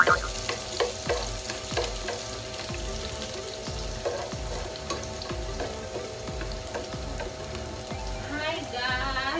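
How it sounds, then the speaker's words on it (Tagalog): Garlic sizzling in a hot wok for chicken curry, with a spatula scraping and knocking against the pan in a loose repeated rhythm over a steady crackling fry, up close with no talk. "mainit na yung kawali. Lagay na natin yung garlic."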